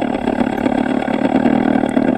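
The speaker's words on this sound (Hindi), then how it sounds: "ये आर्टिफिशियल साउंड इधर से आ रहा है क्योंकि एग्जॉस्ट ईवी में नहीं आता।" A steady, synthetic engine-like hum from an Ola S1 electric scooter's artificial sound drones continuously, low and buzzy like an idling motorcycle, close by with no gaps.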